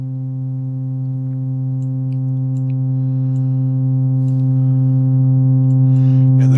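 A steady, sustained modular synthesizer tone with rich harmonics holds throughout, faint clicks scattered above it and a soft burst of noise near the end.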